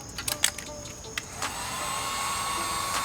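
Heat gun warming vinyl film stretched over a car light, a few short clicks and bursts giving way to a steady blowing roar that stays close and even to the end.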